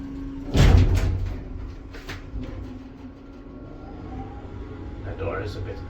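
An old Schindler traction elevator door in Itäkeskus, Helsinki, slides shut with a loud thud and rumble, followed by rattling and a fainter knock, with a voice speaking nearby.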